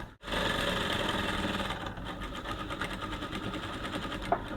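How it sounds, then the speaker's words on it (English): Domestic sewing machine stitching a kaftan with an asho-oke collar, running steadily and loudly with a rapid mechanical rhythm for several seconds, pausing briefly midway before continuing. "I'm going to sew here all the way to this point."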